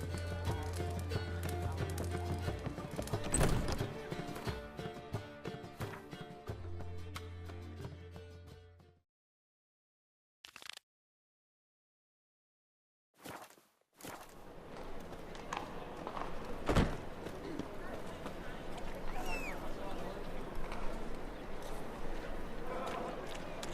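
A horse gallops in The Witcher 3: Wild Hunt, hooves pounding in a fast steady rhythm, then cutting to silence with a couple of isolated clicks before the galloping resumes under game ambience.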